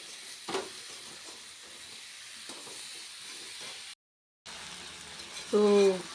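Boiled taro, fried shrimp and potato sauté in spices in a pan, giving a steady low sizzle that cuts out briefly and then resumes, with a short stretch of voice near the end.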